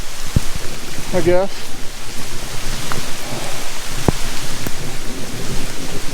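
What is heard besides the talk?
rain with thunder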